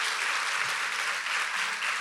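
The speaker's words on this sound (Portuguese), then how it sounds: "Você pode aplaudir a Jesus por isso?" A church congregation applauds, dense continuous clapping filling the room for a couple of seconds without a break.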